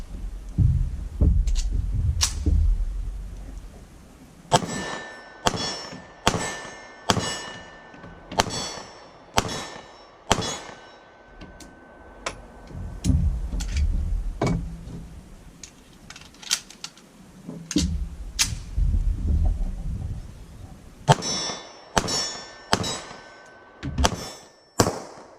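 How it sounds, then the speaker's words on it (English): German 7.65mm Luger pistol fired outdoors from a deck at targets around 15 to 30 yards, a string of sharp, loud shots in irregular bursts, some with metallic ringing, each followed by a brief echo tail. "Let's take some shots with the Luger."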